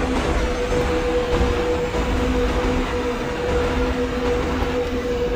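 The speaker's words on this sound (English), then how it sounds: "slowly we are facing the multiple train crossing in the opposite track" Trains passing on the opposite track in a Microsoft Train Simulator passenger run, a continuous close rumbling roar with a steady hum, no talking.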